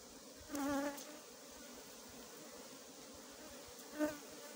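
Honeybees buzz around a beehive colony in a steady drone, with two louder swells as single bees fly close past and then away.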